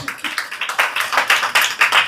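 Audience applause at an investment dinner in El Paso, Texas, honoring a visiting CEO: a dense, steady wash of many hands clapping close by, sustained and fairly loud throughout.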